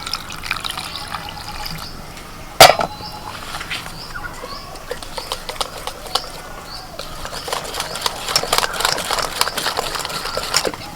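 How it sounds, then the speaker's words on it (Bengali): Plain water trickles in small amounts into a bowl of semolina and sour curd batter for idli, a light uneven patter and splash with one sharp knock early on. "এবার অল্প অল্প জল দিতে থাকবো এমনি নর্মাল জল"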